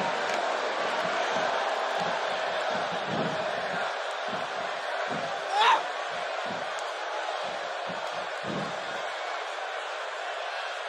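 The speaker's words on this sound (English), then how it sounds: "by the sound of this Milwaukee crowd, they already know who they want to win" A WWE 2K simulated Fastlane tag match draws a constant loud roar from the Milwaukee arena crowd, with a brief swell of cheering midway and low commentary voices underneath.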